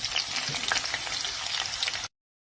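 Fish frying in hot oil makes a dense, bright, close sizzle with crackling spits, steady for about two seconds before cutting off abruptly.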